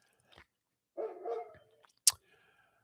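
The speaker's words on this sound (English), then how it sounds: "Boudreaux, if you hear him barking" A dog gives a few short barks and a low grumbling woof, scattered across a quiet room with silence between them.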